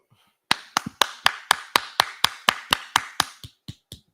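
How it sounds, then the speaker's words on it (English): Sharp claps from a group ring out in a steady, evenly spaced rhythm, about a dozen in a row, then a few quieter ones trail off. "clap it up"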